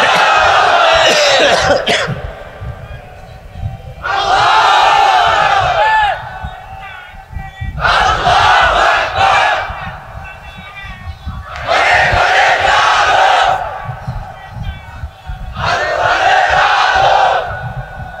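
A large crowd at a religious gathering shouting the takbir (Allahu Akbar) in unison, five loud swelling roars repeated at steady intervals, with a lone voice calling between them over a noisy background.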